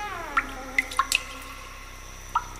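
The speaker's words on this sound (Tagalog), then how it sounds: "sa bawat gabi, may patak ng tubig na paulit-ulit" Water drips from a ceiling as single, clear drops, about six of them at irregular intervals, each a bright close plink over a quiet background hum.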